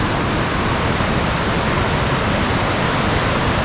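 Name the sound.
whitewater rushing down a river near Lake Manapori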